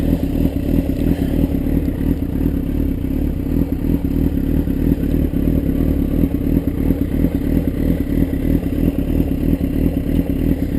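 A motorcycle engine idles in neutral, a steady low rumble with light mechanical clatter that stays close and even throughout, without revving.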